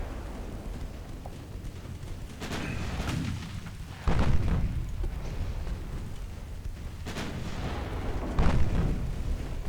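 Deep booming salvos from 9-inch naval guns in the naval warfare game Ultimate Admiral Dreadnoughts, set in 1920, fire as several heavy blasts spaced a few seconds apart over a steady rumbling background.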